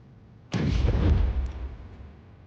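A size 5 torpedo launched in a naval video game, a sudden heavy boom-like blast that rolls on as a broad rumble and slowly fades over about two seconds.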